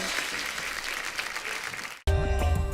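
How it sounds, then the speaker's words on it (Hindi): A studio audience at a Hindi comedy show bursts into steady applause for about two seconds, then it cuts off sharply and music takes over. "एक बार जोरदार तालियां अभिषेक सर और चित्रांगदा के लिए।"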